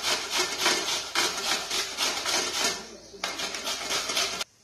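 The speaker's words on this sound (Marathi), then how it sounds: "मी किसून घेणार आहे।" Mangoes are rubbed over the medium-size holes of a hand grater for gulamba, a steady rasping scrape in repeated strokes, close and fairly loud, stopping abruptly at the end.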